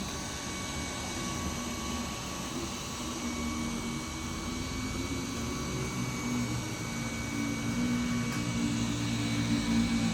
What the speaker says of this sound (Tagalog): Try naman natin kung gaano kalakas yung fan.